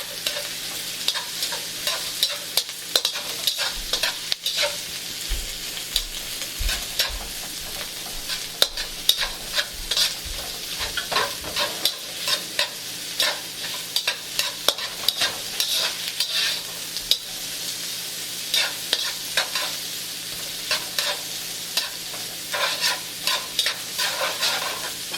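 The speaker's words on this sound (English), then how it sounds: "I put my onions in." Onions stir-frying over high heat for a vegetable stir fry: a steady sizzle with frequent stirring scrapes and clatters of the utensil in the pan, continuous throughout with no talking.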